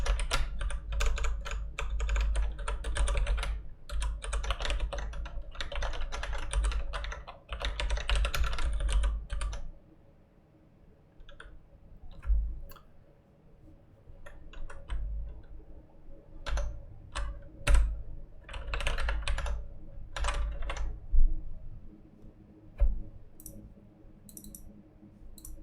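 Typing code on a computer keyboard: quick bursts of close key clicks with short pauses between, soft and near, with no talking.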